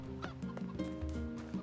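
Chickens in the video game NieR Replicant cluck in short, honking bursts over a steady game music bed, the fowl calls repeating several times close and moderately loud.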